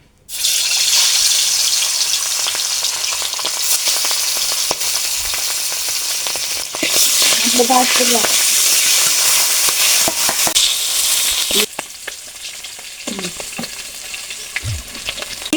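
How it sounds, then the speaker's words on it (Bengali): Pieces of boal fish frying in hot mustard oil in a wok, a loud, continuous crackling sizzle with bursts of spitting and a few clinks and scrapes as the pieces are moved around, with no talking. "কারাই সরষের তেল দিয়ে দেবো তেলটা গরম হয়ে গেছে মাছগুলো দিয়ে দেবো"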